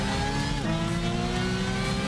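A race car engine in Gran Turismo 6 holds a loud, steady drone with shifting harmonic tones as revs rise and fall slightly, heard from inside the car.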